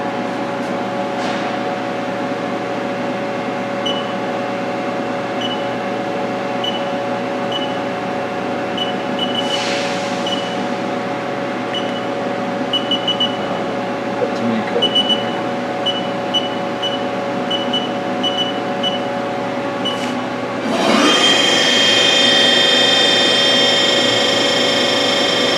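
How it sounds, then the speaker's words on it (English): A Haas ST30SSY CNC lathe runs with its spindle turning, a steady mechanical hum with faint ticking that swells into a louder, higher whine near the end. "Spindle running."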